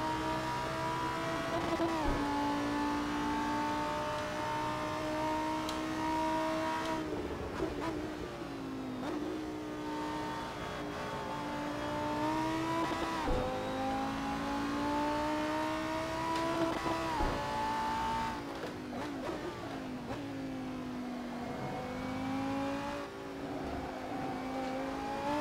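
Lamborghini Huracán GT3 race car at Silverstone in Assetto Corsa, engine note climbing steadily through the gears with sharp shifts every few seconds, loud and continuous throughout.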